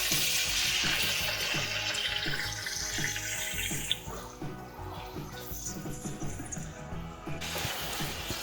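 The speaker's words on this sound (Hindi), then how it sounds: "अब मैं इस ऑयल में टमाटर ऐड करूँगी।" Sliced tomatoes, about a kilogram, drop into hot oil for a chicken biryani and set off a steady, loud, bright sizzle that runs throughout and eases slightly partway through.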